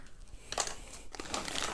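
A plastic bag holding a diamond art canvas crinkles as it is handled during an unboxing, close bursts of crackling in two or three handfuls, loud and near.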